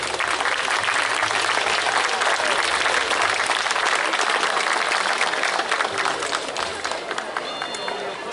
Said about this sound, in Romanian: Tot în aplauze!